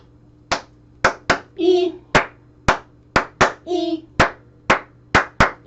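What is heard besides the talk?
hand clapping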